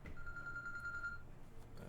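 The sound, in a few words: phone ringing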